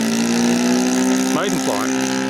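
A four-stroke engine on an RC plane on its maiden flight, a steady droning hum like a small lawn tractor motor, running continuously while someone speaks over it.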